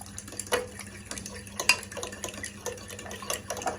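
Eggs and yogurt stirred together in a bowl, a spoon or utensil clinking and scraping against the sides in irregular taps at close range, with a faint background hum.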